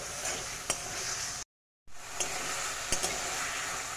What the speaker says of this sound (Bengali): এখন দিয়ে দেব ভেজে রাখা আলুগুলোকে দিয়ে আর একটু ভালোভাবে কষিয়ে নেব